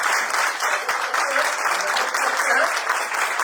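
Audience applause as a crowd gives a standing ovation at the inauguration of a national federation of retired insurance field workers, loud continuous clapping from many hands, close and sustained, with faint voices mixed in.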